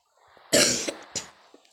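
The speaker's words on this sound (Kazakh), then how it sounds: "Жөтел үшін мені кешіріңіздер." Two close coughs: a strong, breathy one followed a moment later by a shorter, softer cough, with quiet in between.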